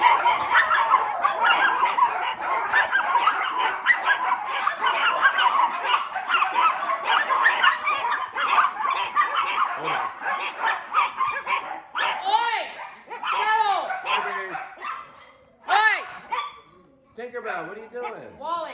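Several dogs in a kennel bark, yip and whimper together in a loud continuous clamor, with high excited yelps growing sharper near the end as a person talks over them.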